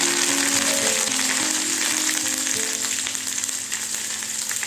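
Garlic and curry leaves frying in hot oil, a loud continuous sizzle with sharp spluttering crackles close up, no voices.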